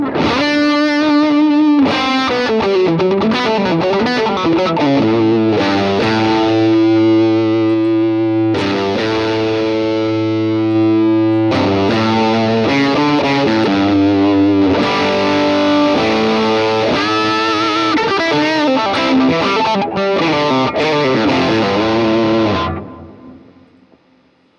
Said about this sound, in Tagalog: Ito yung boosted distortion natin.